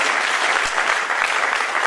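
A dense burst of audience clapping, steady and close, filling the short moment without any talk over it.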